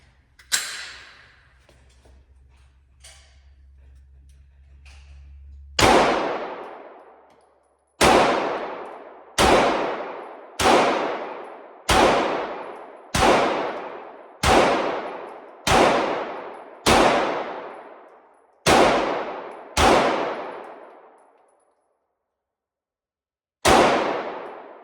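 A Springfield Echelon pistol fires a steady series of about a dozen sharp shots, each ringing off steel targets with a bright clang that decays before the next, followed by a pause and one final shot.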